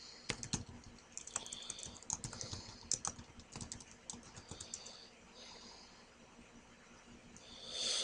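Typing on a computer keyboard: quiet, close key clicks come in quick irregular bursts for several seconds, then thin out into sparse taps with a soft rustle at the end.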